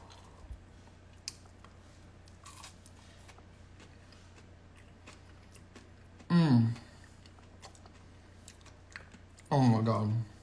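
Crunchy air-fried avocado fries coated in pork rinds bitten and chewed up close, two short loud crunching bursts separated by quiet pauses.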